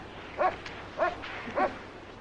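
Three dogs' barks come at about half-second intervals, medium loud over steady background noise, with no talk.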